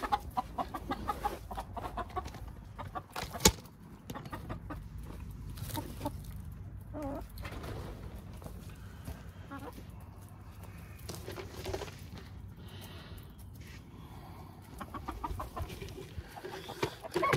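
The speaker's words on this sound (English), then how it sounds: "Boy, this rooster's hungry." Chickens cluck and a rooster calls over a continuous farmyard murmur, scattered clucks coming in irregular bursts with a few sharper calls.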